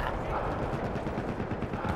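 Dense, continuous gunfire rattles without pause through an online multiplayer video game match, loud and close, with no clear break between shots.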